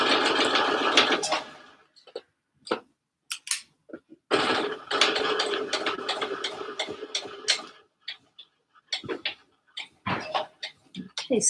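A sewing machine stitches slipper boots, its needle running in rapid mechanical bursts that start and stop between short pauses, close and fairly loud.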